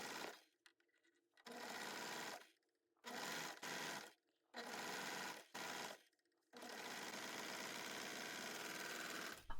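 A serger stitches over folded knit fabric in several loud, close bursts of rapid mechanical whirring, separated by short silences, ending in one longer continuous run.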